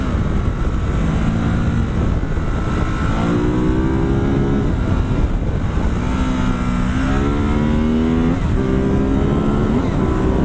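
A Ducati Supersport S motorcycle ridden on the road, its engine droning loud and close with rising revs through repeated gear changes, wind rush constant underneath.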